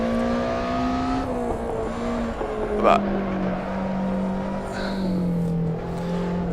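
Race car engine in Assetto Corsa on the Magione circuit, a steady close droning whine that rises, dips through a gear change and holds, while someone talks over it.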